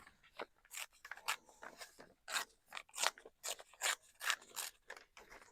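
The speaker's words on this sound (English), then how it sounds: "let's just tear off a piece here that looks interesting" Washi tape being torn off the roll for a Christmas notepad, a series of close, quiet rasping rips and crinkles in an uneven rhythm, with no voices.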